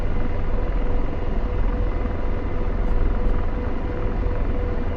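Steady loud rotor and turbine drone of an AH-64D Apache helicopter idling in DCS World, a continuous broad roar with a faint high whine, no talking.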